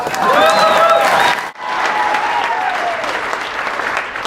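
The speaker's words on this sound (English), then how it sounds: "You guys clap a little bit more." Comedy club audience at the Funny Bone in Omaha, Nebraska, breaking into loud, sustained applause with scattered cheers and whoops, a brief dip mid-clip before the clapping swells again and continues steadily.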